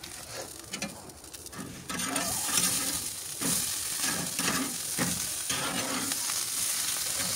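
Meat patties sizzle and crackle steadily on a Jaxon charcoal grill, the frying growing louder partway through, with scraping and stirring sounds up close and no voices.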